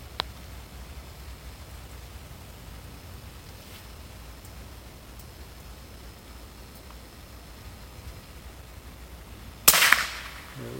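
A .22 caliber PCP air gun fires a single sharp crack at a squirrel outdoors behind a house in a crosswind, after a long stretch of quiet ambient hiss, followed by a brief decaying tail.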